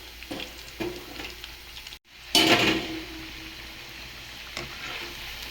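Chicken pakodi frying in hot oil, a steady crackling sizzle with a brief cutout and a louder burst of popping and stirring in the middle.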